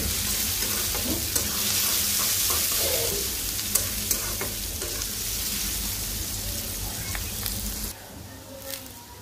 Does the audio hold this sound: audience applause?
no